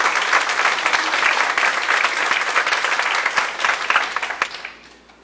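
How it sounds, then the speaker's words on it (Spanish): Congregation applauding in church during a sermon, a dense, steady wash of many hands clapping at close range that fades away in the final second. "Pues denle un aplauso al Señor"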